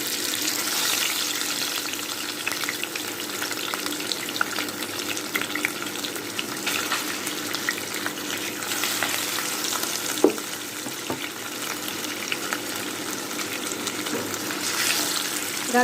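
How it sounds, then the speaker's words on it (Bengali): Rohu fish pieces coated in salt and turmeric fry in hot oil, a steady dense crackling sizzle running the whole time with a few sharper pops and no talk. "এখন আমি মাছগুলোকে ভেজে নেব।"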